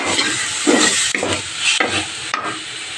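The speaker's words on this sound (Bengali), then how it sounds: "এবার একটু নেড়ে নেড়ে টানাবো।" Raw tomato mash frying in a pan with salt, turmeric and a little sugar, stirred steadily so a loud, close sizzle runs throughout, broken by several scraping strokes.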